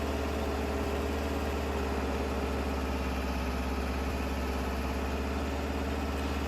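A tractor engine in the Farming Simulator 22 game runs at a steady low drone with a constant vibrating rumble, even and unbroken throughout with no talk.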